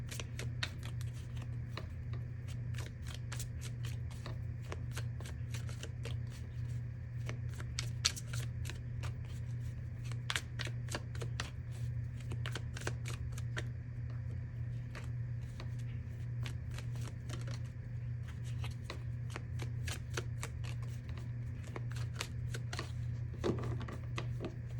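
Tarot cards are shuffled in a steady run of quick crisp riffles and flicks, close and fairly soft over a low hum, with no talking.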